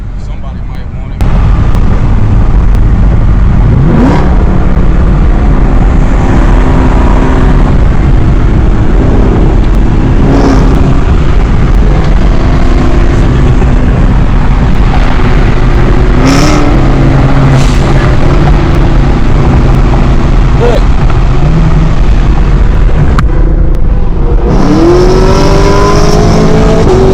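A Camaro fitted with an AWE exhaust at a cars-and-coffee meet roars loudly and continuously, with rising revs and sharp bursts, engine and traffic noise filling the scene while people talk and shout nearby.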